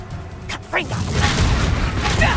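Confringo blasting spell cast in Hogwarts Legacy: a whooshing rise followed by a sustained rumbling blast that fills the rest of the moment, with shouting voices over it.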